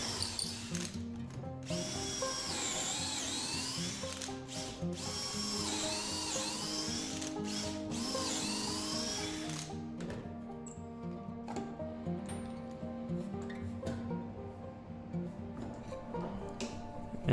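A drill bores pocket holes through wood with a pocket-hole jig while building a side table, giving a close, whining buzz with short pauses between holes, then quieter tool handling.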